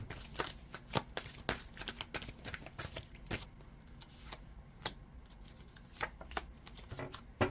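Tarot cards being handled and pulled from a deck, giving a close, quiet run of crisp riffling and slapping card sounds in quick irregular bursts, with no voice.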